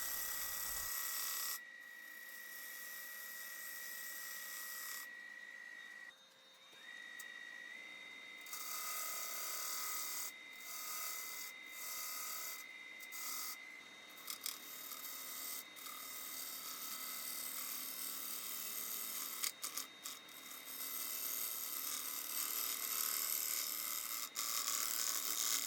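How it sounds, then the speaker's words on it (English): A small, freshly sharpened woodturning gouge makes final cuts on the bottom of a crotch-wood piece on the lathe, giving a steady scraping hiss over the running machine, broken by short pauses. "I'm doing some final cuts on the bottom surface with a little bit smaller gouge"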